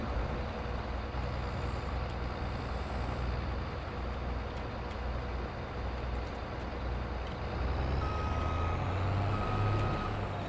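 Semi truck reversing in Farming Simulator 22, with a steady backing-up rumble and faint tonal beeps near the end, all over a continuous engine drone.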